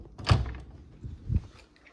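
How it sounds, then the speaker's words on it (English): Door opened in a home during a prank, with a muffled thunk near the start and a second softer knock about a second later, fairly quiet and without talk. "Open the door, bro."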